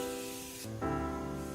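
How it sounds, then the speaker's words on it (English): Mario Badescu facial mist is lightly sprayed onto a face in a couple of quick, close bursts, each a soft, airy hiss that cuts in and out over a background drone. "And I also take my Mario Badescu and just lightly spray that"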